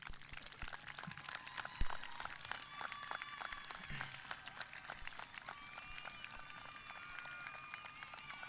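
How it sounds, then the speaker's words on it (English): Graduation audience applauding at a 2022 high school ceremony, dense crackling claps from a large crowd sustained throughout, fairly distant and even, with faint voices underneath. "please rise and give your parents and families a round of applause for their continued support"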